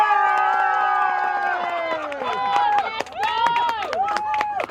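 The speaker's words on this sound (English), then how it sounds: "after 3, shout, cheer, go crazy. Go very loud for Kim's container" An audience at a garden show, voting for a container garden display, bursts into loud shouting and cheering, with rising and falling whoops from many voices sustained throughout.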